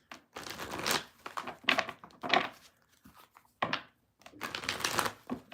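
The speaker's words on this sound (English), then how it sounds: "I gotta shuffle first." Tarot cards being shuffled by hand, giving several bursts of papery riffling and crinkling separated by short pauses, close and moderately loud with no talking.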